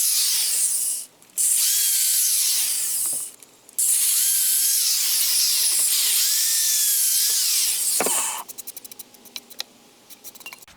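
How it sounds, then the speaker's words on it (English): A high-pitched power drill whines steadily through a log in long bursts, pausing briefly between holes, then winding down to clicking and rattling. "Now I'm ready to drill my next row."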